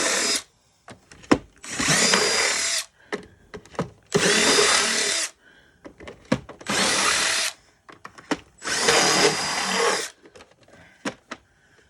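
A power drill or driver working on a vintage cassette player whirs in four or five loud sustained bursts of about a second or more each. Clicks and handling knocks fill the pauses.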